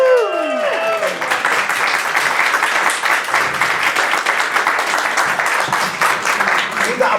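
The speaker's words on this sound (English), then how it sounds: "Keep that applause going" Audience applause welcoming the winners Joe and Jake at a London press event, a dense sustained crowd clapping that stays loud throughout, with a brief voice sweep at the very start.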